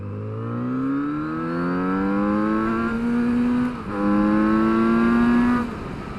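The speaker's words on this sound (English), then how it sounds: "I'll drop it into second and we'll give it a bit of a thrash" A Kawasaki Z900RS motorcycle accelerates hard in second gear, its engine note climbing steadily in pitch, briefly dipping at a shift or throttle lift, then rising again, loud and close throughout.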